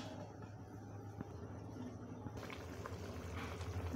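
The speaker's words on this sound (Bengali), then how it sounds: "ঝোলটা ফুটে গেছে দেখতে পাচ্ছ" Eggplant and potato curry broth simmers in a covered pot, a faint steady bubbling with a low hum underneath and small pops toward the end.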